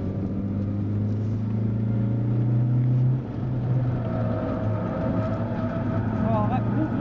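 A race car accelerates on a racing track, its engine drone holding steady and loud throughout, with a brief dip near the middle and a rising tone toward the end, while a voice talks over it.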